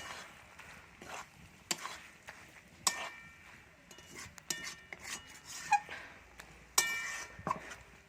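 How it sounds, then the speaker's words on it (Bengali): Fried okra being stirred and coated into masala in a pan for a vegetarian bhindi dish, with soft scraping, clinking utensil taps and faint rubbing at an irregular pace, fairly quiet and close. "ভালোভাবে মশলার সাথে আমি ঢেঁড়সটা মাখিয়ে নিব।"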